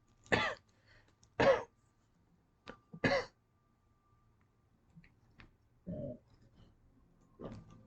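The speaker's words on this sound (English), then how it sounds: "I have to take little coughs" A handful of short, soft coughs and throat clearings, spaced apart with quiet pauses between them, close by.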